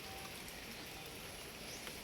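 Steady rain pours down in Manila in an even, unbroken hiss, dense and constant with no pauses or other sounds.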